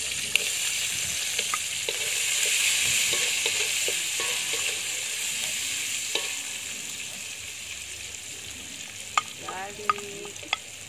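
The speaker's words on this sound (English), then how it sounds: "The anchovies a little bit crispy. I put the onion." Onion frying alongside crispy anchovies in a hot pan: a steady, close sizzle runs throughout, with light utensil clicks and scrapes of stirring, a few sharper taps near the end.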